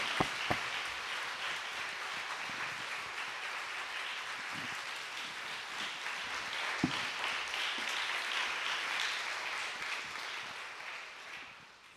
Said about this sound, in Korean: 우리 목사님 나오실 때 크게 우리 환영의 박수로 우리 격려하면서 모시겠습니다